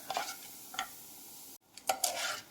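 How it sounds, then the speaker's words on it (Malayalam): A spoon scrapes and stirs through dry toor dal roasting in a pan, giving intermittent gritty rattles with a short pause midway. "തുവരപ്പരിപ്പ് നമുക്ക് നല്ല ബ്രൗൺ കളറാകുന്നത് വരെ ഇളക്കി കൊടുത്ത് വറുത്ത് കോരാം"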